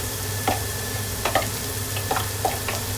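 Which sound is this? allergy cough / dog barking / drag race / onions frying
onions frying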